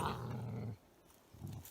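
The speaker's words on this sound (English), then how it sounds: "Belgian Malinois." A Belgian Malinois dog growls close by in two low, rumbling bursts: a longer one at the start, then a shorter one after a brief quiet gap.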